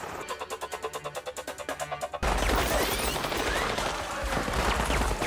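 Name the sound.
gunfire in Mission Impossible 2 video game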